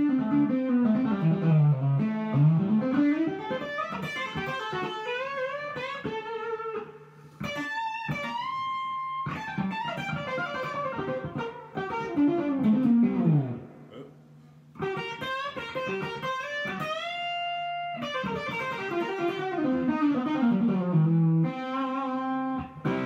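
A vintage electric guitar runs straight into a Deluxe Reverb reissue amp with heavy attenuation, playing slightly driven melodic phrases and chords with short pauses between passages.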